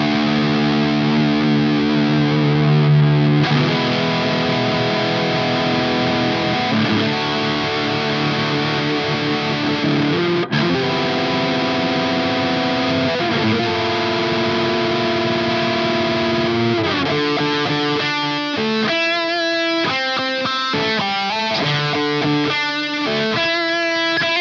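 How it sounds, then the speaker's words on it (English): A PRS SE semi-hollow electric guitar plays through heavy distortion effects, sustained chords ringing loud and steady before shifting to choppier, rhythmic picked notes near the end, with no voices. "this guitar would certainly get you by because it's got a lot of different sounds coming out of this one instrument"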